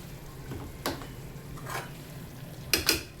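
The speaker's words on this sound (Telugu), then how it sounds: "ఫ్రై లాగా చేస్తుందండి, చూడండి" Snails fry quietly in a pan, a low steady sizzle broken by a few soft scrapes and clinks of a stirring utensil against the metal.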